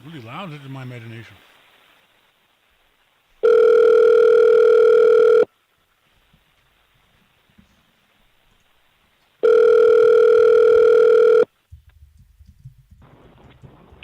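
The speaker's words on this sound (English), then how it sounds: "I'm trying to call him on his home number, but there's no answer." Telephone ringback tone on a call to a home number, two long loud electronic rings about six seconds apart, with a brief voice at the start and faint sounds between.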